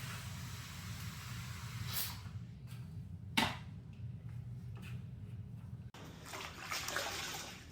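Rinseless wash soaks a car hood, a constant close hiss of liquid running over the paint with a sharp splash and small sloshing and dripping, ending in a brief cut and a fresh wash of spray.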